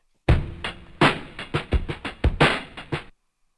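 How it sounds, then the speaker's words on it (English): A lo-fi drum break sample processed on an MPC plays alone, with about a dozen crunchy, punchy hits in a loose groove of kicks and snares over roughly three seconds, then stops abruptly into silence. "This will make the sample sound considerably lo-fi."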